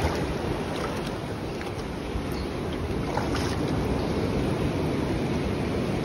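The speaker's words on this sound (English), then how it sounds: "Look at the waves here in Maroubra. Super strong waves." Strong ocean waves at Maroubra beach, a steady, loud broadband wash of surf and churning water with wind noise, continuous throughout and with no voices.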